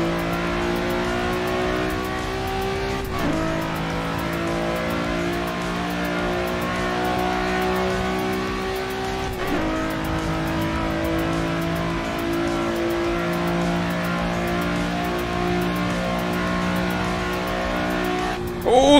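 Mazda RX-7 engine in the Assetto Corsa racing game, revving steadily with rising and falling pitch and two abrupt gear-shift drops, loud and continuous throughout with no talk.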